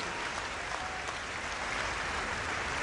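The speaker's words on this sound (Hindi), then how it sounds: "आपकी हाथ की करतल ध्वनि ने इस पूरे वातावरण को स्पंदित कर दिया" A large audience at a hospital inauguration claps continuously in a dense, steady wash of applause that holds evenly from start to finish.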